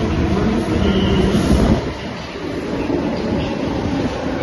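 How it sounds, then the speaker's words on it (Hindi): A metro train rolls into a station platform, a steady loud rumble of wheels and rail noise that swells slightly then eases as it slows, with no voices over it. "हमारी मेट्रो आ चुकी है"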